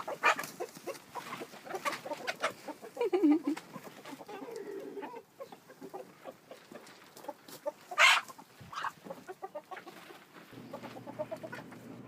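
Chickens clucking and squawking during a feeding frenzy on a farm with hogs nearby, an irregular, busy chorus of overlapping clucks and sharp calls, close and moderately loud, with no talk.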